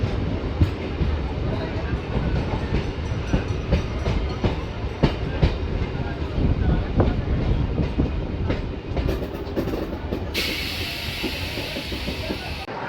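Rampurhat–Jasidih MEMU passenger train running on a hilly Jharkhand line toward Deoghar, steady loud rumble with rhythmic clickety-clack of wheels over rail joints throughout, a brief hiss near the end.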